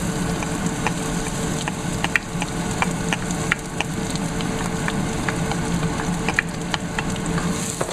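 Onions, celery and carrots frying together in a pan, making a steady, close sizzle with scattered crackles and pops for the whole stretch, with no talking.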